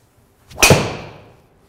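Honma TW747 460 golf driver striking a ball, one sharp, loud impact crack close by, ringing off and fading over about a second.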